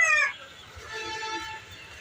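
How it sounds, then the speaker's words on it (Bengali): A chicken at a poultry farm gives a loud, sharp call at the start, then falls to quieter, scattered clucks against a low background rumble. "তারপর এই সাইডে মুরগি আছে অনেক সুন্দর একটা।"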